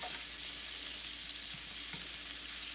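Sweet potato frying in a hot pan, a steady soft sizzle and crackle running throughout with a couple of faint clinks, no talking.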